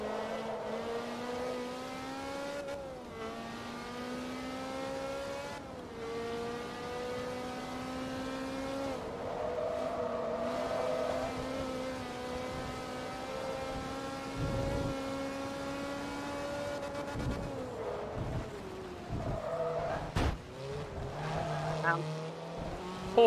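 Ferrari F430 Challenge racing in Forza Motorsport 2, a high-pitched engine wailing steadily through gear changes with rising and falling revs, some tire noise and a sharp knock near the end.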